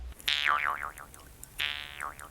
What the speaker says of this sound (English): The human performance is driving the shape of the twanging Jew's harp.